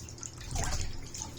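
Water poured from a container splashes and drips briefly, a soft close liquid trickle with no talk.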